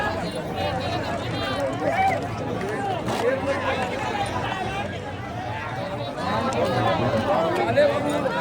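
Dense crowd of devotees at the Ekvira hill temple Chaitra palkhi festival, a steady hubbub of overlapping chatter and footsteps from many people, close and continuous.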